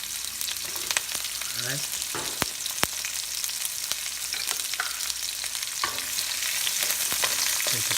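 Onions fry in a pan for milkfish steak, giving a steady, fairly quiet sizzle with occasional stirring scrapes and a few sharp clicks, while a voice speaks briefly.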